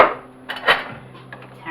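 A cooking pot handled on a stovetop while making gumbo: a few short metallic clanks and scrapes of pot and utensils, close and moderately loud, with a low steady hum underneath.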